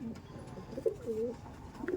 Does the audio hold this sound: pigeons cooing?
yes